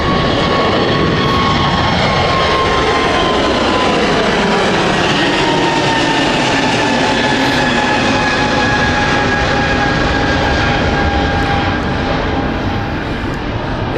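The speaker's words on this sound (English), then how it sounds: "As we've got Ita doing a beautiful takeoff here." An ITA Airways jet taking off at London City Airport, a loud, sustained jet engine roar that fills the whole stretch, with slowly shifting whining tones as the aircraft climbs away.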